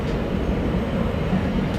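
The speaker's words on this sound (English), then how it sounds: "I think that's our train." A train rolls along the track in Amsterdam Noord, giving a continuous loud rushing rumble throughout, with no talk over it.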